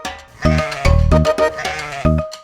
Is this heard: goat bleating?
yes